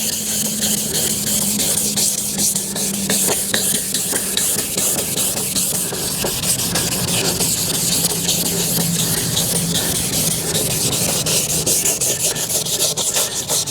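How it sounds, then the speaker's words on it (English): Wet sandpaper rubs steadily across a foggy plastic car headlight lens in horizontal strokes, a continuous close gritty rasp with a faint hiss of water and no talking. "now we're going to go ahead and sand it down"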